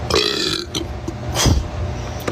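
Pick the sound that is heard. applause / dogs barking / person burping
person burping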